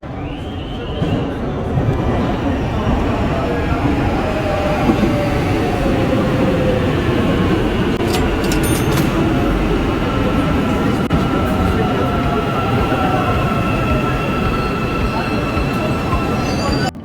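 An Istanbul metro train rolls along steadily with a loud, continuous rumble of wheels and motors, and faint high squeals of the wheels drift in and out throughout.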